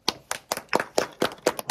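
Children clap their hands as an applause meter, about eight sharp, close claps in a steady rhythm, alone and without talk.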